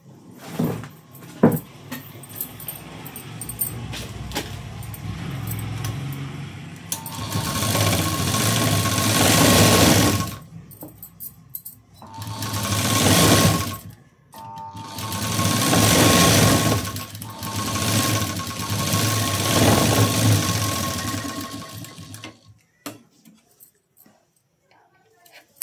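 A sewing machine stitches the seam of a blouse, running in long steady whirring bursts with short pauses between them, close and loud, while someone talks over parts of it.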